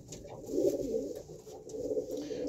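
Pigeons being handled for vaccination coo in low, throaty, rolling bursts that run almost continuously, close by with light rustling and no talk.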